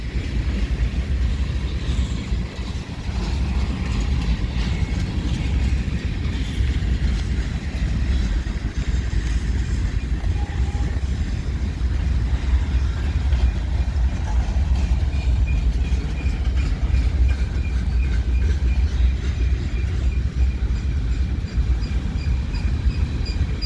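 A CN freight train rolls slowly through the VIA Rail station in London, Ontario, producing a loud, steady rumble and rail clatter that continues for about twenty seconds.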